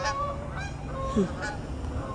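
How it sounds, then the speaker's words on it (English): Geese honking in a Halloween puppet film, several close, loud nasal honks in an irregular sequence with no talking. "Are those geese?"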